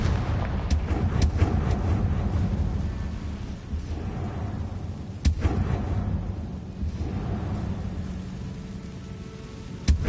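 Confringo fire spell from the Hogwarts Legacy video game: a rumbling, booming blast with crackling fiery texture and a sharp burst partway through, loud and close.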